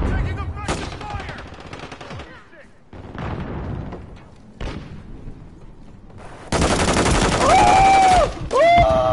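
Rapid bursts of automatic gunfire and booming shots in Call of Duty MW3 multiplayer, loud and close, with stretches of sustained firing and brief pauses and a voice speaking over the action.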